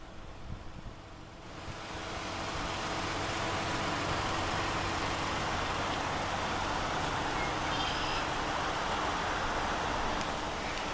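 A 2015 Chrysler 200C engine idles after a remote start: after a quiet second, a steady broadband rumble and hiss rises and holds evenly, close and moderately loud, with no voices.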